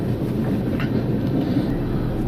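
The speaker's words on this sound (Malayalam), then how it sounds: "കൊച്ചുവേളി ലോക്മാന്യ തിലക്കാണിത് ഈ ട്രെയിൻ." The Kochuveli–Lokmanya Tilak full-AC express train rumbles along steadily, a dense, continuous low roar of wheels and carriages without pause, heard close from on board or trackside.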